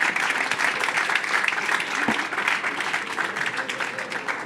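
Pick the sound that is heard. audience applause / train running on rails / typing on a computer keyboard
audience applause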